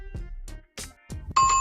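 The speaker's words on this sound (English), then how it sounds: "you will hear the bold enough bell" A studio bell sound effect for a radio sports show rings out as a bright, sustained electronic tone right after a few short bursts of a voice.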